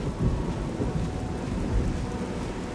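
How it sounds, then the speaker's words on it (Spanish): Rain pours in a thunderstorm in The Elder Scrolls IV: Oblivion, a dense patter of drops over a low, rolling rumble of thunder that swells twice, with no voices. "¿Qué tipo de lluvia mágica es esta que atraviesa todo?"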